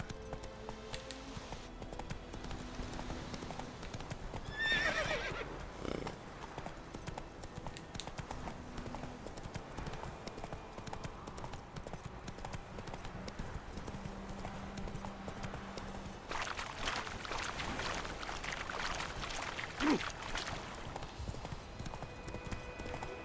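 Hoofbeats of a horse galloping in The Witcher 3 video game, a steady, close clip-clop rhythm running throughout with game ambience and music underneath and a brief vocal call near the middle.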